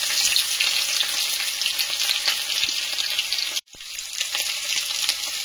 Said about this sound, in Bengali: এবার সেদ্ধ আলুটা দিয়ে দিচ্ছি